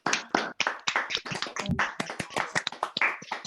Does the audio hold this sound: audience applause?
yes